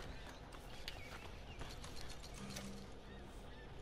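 Horse hooves clip-clop in the video game Red Dead Redemption 2, a steady, fairly quiet run of clattering steps over a constant noisy background with faint mechanical ticking.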